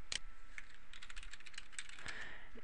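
Someone types on a computer keyboard in a close, quiet run of rapid, uneven key clicks, a few slightly sharper taps standing out, with no talk.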